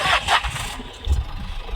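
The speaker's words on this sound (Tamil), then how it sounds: "இன்ஜின் ஸ்டார்ட் பண்ணிக்கணும்." A car engine starts, with a brief cranking whirr at the beginning that settles into a low, steady idle rumble, heard close by.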